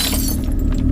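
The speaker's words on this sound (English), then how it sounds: "It sounded like glass breaking." Glass breaking as a sound effect, a loud crash of shattering glass with bright tinkling fragments over a short, dense burst.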